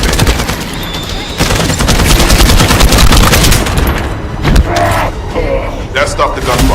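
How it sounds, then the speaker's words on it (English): Loud, sustained automatic gunfire from the video game The First Descendant, dense rapid bursts over a thick low rumble of explosions and game effects, with a brief pause near the middle before firing resumes. "That stopped the gunfire."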